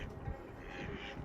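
A wild duck in Poland quacks, a short rough nasal call heard close and moderately loud against an outdoor background, lasting only about a second.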